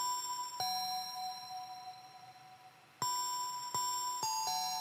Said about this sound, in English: So, the little bells